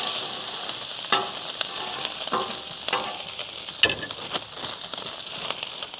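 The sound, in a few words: carne asada meat sizzling on a Weber Slate griddle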